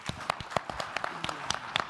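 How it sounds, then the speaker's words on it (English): A conference audience at a startup showdown gives a short round of clapping, with sharp, scattered claps close by and a faint voice underneath. "One last round of applause for NearWoo."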